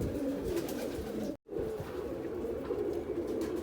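Pigeons kept as breeding pairs coo continuously in a low, soft murmur close by, broken by a brief dropout partway through, with no voices present.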